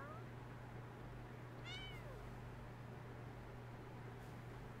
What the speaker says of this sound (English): Look at you being all meowy.